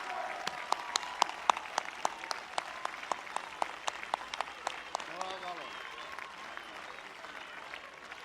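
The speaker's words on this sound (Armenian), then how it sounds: "Ծափահարությունները։" A rally audience in Gyumri applauds, sharp individual claps standing out over the crowd, the clapping thinning toward the end while a voice speaks over it.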